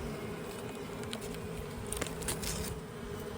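A dense, steady buzz of many bees at a struggling brood nest in a hive, continuous and close, with no voices.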